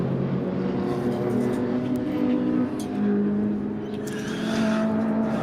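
The number 716 BMW race car drives in an endurance race at the Nürburgring, its engine a steady, loud roar blended with other racing cars on track, continuous throughout with no talking.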